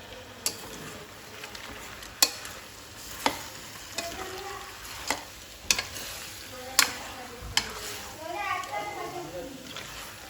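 Mutton masala fries in a pan while a utensil stirs it, with sharp regular scraping clicks roughly once a second over a soft continuous sizzle.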